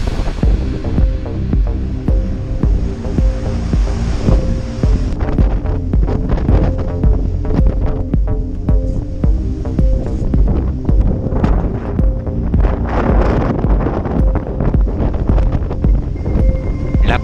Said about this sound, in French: La houle et le vent n'ont cessé de forcir.